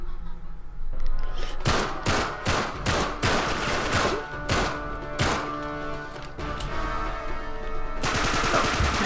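Enemy gunfire in Uncharted 3, set in a chateau: loud, rapid bursts of shots crack one after another, some in quick runs and others spaced apart, ending in a sustained burst.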